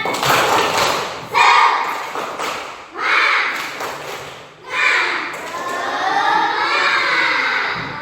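Schoolchildren in a morning classroom perform a rhythmic clapping chant, loud bursts of hand claps and shouted voices repeating in short phrases close by.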